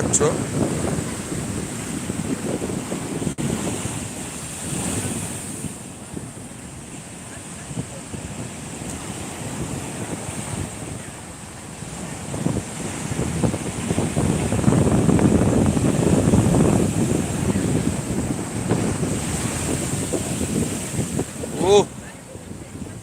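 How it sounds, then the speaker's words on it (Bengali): Sea waves roll in and break on Shankarpur beach at dusk, a continuous roar that swells louder midway, mixed with heavy wind buffeting the microphone. "দেখো কীভাবে ঢেউগুলো আসছে দেখো একদম দূর থেকে কিন্তু আসছে"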